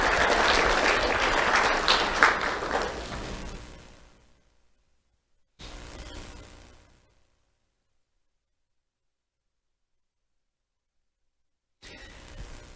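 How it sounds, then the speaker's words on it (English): A round of applause from an audience at a sheriff's office awards ceremony, full and close for about four seconds before fading, followed later by a brief softer burst of clapping and then another. "Round of applause for Isabella and Jacoby."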